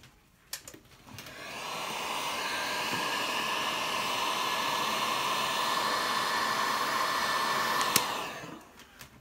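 Heat gun on its lower setting shrinking heat-shrink tubing over a guitar wiring connection, a steady loud blowing roar that switches on with a click, holds for several seconds, then winds down.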